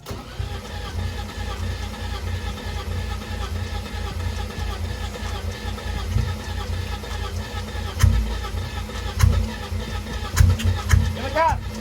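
A wrecked BMW E30 cranks and catches, then runs at a rough idle with a few throttle blips toward the end. The engine is close, and excited voices talk over it.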